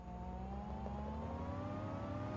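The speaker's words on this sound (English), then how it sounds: "You hate the engine noise on that combine?" A combine harvester in Farming Simulator 25 drones steadily with a whiny engine, sustained tonal pitches holding at a constant level for the whole stretch with no one talking.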